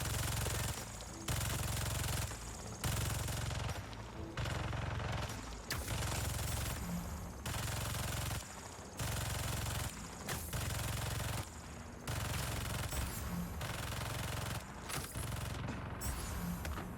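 Turret gunfire in the Spider-Man 2 video game, loud sustained automatic bursts lasting a couple of seconds each with short pauses between them, dense and harsh throughout.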